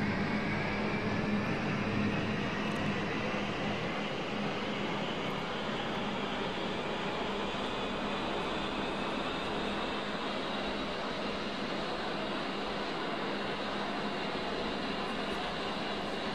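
An aircraft's auxiliary power unit runs in the DCS combat flight simulator, a steady, unbroken turbine whine and airy roar holding at an even level throughout.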